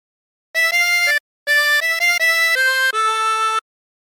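A chromatic harmonica plays a short melody from "Wellerman" of sustained, reedy notes in two phrases separated by a brief pause, each note clear and steady.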